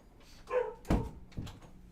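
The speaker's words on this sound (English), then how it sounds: "Let me close this door." A door swings shut indoors with one solid thud near the middle, followed by a softer knock or latch click, with faint dog whines earlier in the moment.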